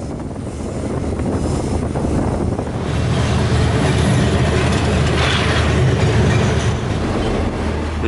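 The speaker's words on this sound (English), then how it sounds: "train passes through many tunnels also, as this one is entering the tunnel" A train runs on the Malaysian east coast jungle railway, a steady loud rumble of wheels and carriages that swells around the midpoint, with rhythmic clatter continuing throughout.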